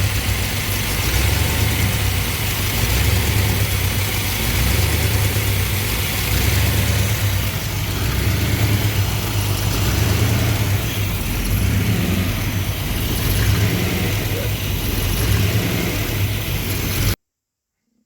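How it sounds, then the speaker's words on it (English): A car engine fitted with a faulty Thermoquad carburetor runs steadily up close and surges unevenly for the whole stretch, with a low rumble that never settles into a clean idle. "Well, it was better for a second, now it's surging again."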